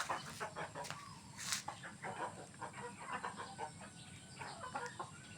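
Native chickens cluck in short, irregular bursts close by, a restless flock chattering with occasional louder squawks.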